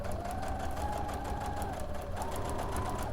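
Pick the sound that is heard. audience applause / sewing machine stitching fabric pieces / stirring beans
sewing machine stitching fabric pieces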